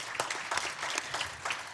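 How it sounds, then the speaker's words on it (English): Audience applause for the panelists at an expert panel event on telehealth, a fairly soft, steady patter of many hands clapping in a room, with no talking over it. "So we have another round of applause for all of our panelists."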